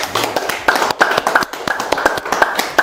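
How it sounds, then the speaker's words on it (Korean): Audience members at a lecture hall clap to welcome a guest speaker; sparse, close, distinct hand claps in an uneven rhythm. "박수로 모시겠습니다."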